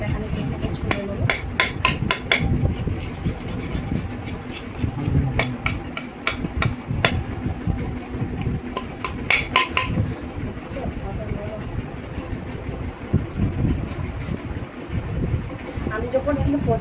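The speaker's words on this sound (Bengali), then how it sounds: "আমি নারকেল এইভাবে কাটছি" A green coconut is being hacked open with repeated sharp chopping strikes, rapid irregular knocks and clinks in bursts over a rural outdoor background, with a person talking between the blows.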